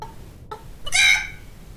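A person imitating a chicken, giving a short clucking sound and then a louder, drawn-out squawking call close to the microphone, with no other talk.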